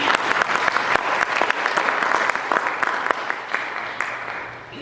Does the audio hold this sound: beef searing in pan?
no